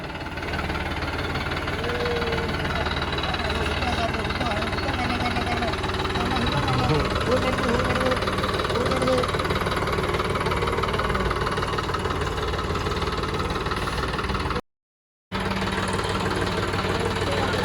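A tractor engine idles with a continuous, knocking diesel rumble, steady and close for the whole stretch apart from a brief cutout near the end, with voices talking over it.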